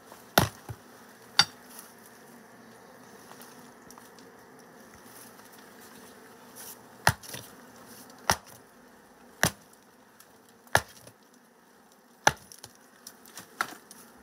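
Honeybee colony humming inside a tree hole, a faint continuous drone broken by a dozen sharp, irregular knocks on the wood, with no talk.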